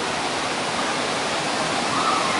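Kawasan Falls in Cebu pours in a steady, dense roar of falling water, a continuous broadband rush that stays close and loud throughout with no voices over it.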